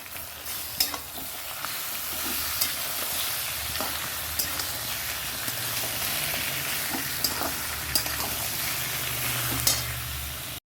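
Marinated chicken frying in a pan with onions and potatoes, a steady close sizzle with occasional sharp clinks and scrapes of a spatula stirring, no voices.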